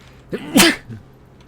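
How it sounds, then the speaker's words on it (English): A single loud human sneeze, a short intake followed by a sharp, breathy burst and a quick trailing exhale, close up and isolated. "I think I'm gonna sneeze as well."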